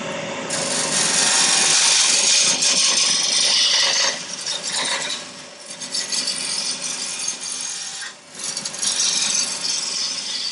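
A wood sphere being turned on a lathe with a ball gouge, giving a loud continuous scraping, hissing cut that briefly eases and dips midway before resuming.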